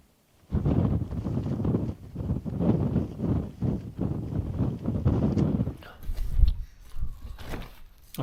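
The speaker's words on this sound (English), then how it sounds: "there's a few gusts coming through" Wind gusts buffet the microphone outdoors at a wild camp in the Lake District as dusk falls, a loud, rough rumble rising and falling in uneven surges with brief lulls between them.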